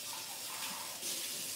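A kitchen tap runs steadily as an item is rinsed under it, giving a soft, even hiss of flowing water with a slight surge near the end and no talking.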